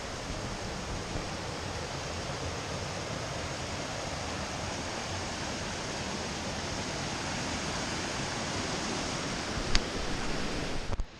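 Steady rushing water fills a misty valley in Nepal on the trail to Ghandruk, a broad continuous roar heard close and alone from start to finish with no voice over it.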